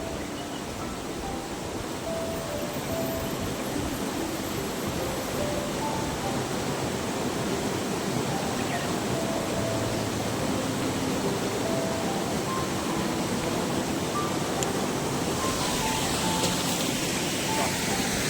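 Fast-flowing water rushing at Chelimichenu waterfalls, a loud, steady, broadband roar that fills the whole stretch without letup, with faint voices buried beneath it.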